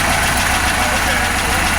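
A Pontiac Grand Prix GXP engine running steadily just after its first start-up following abandonment, a continuous loud idle with dense broadband rumble and a slight knocking texture throughout.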